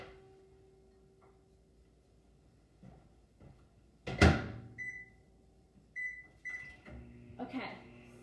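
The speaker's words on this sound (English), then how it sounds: "it's gonna go in the microwave for 70 seconds." A microwave door clunks shut, buttons beep, and the oven starts up cooking a mug cake with a low steady hum and faint ticking in a quiet room.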